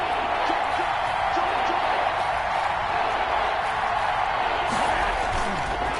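A stadium crowd in a PlayStation 4 football video game roars steadily and loudly ahead of a big third down, a dense continuous wash of cheering with occasional whoops.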